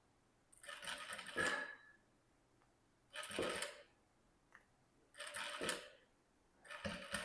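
Sewing machine stitching a curved patchwork seam in fabric scraps, running in four separate bursts of a second or so each, separated by short quiet pauses, moderately close and with no talking.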